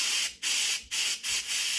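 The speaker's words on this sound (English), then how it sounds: "So I'm going to show you what this looks like. This can be quite dramatic." Steam blasts out of an Instant Pot pressure release in loud, close hissing bursts, with three short breaks where it sputters and then surges back.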